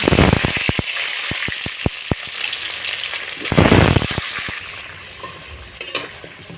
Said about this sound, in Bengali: কড়ার তেল গরম হয়ে গেছে এবার আমি আলুগুলোকে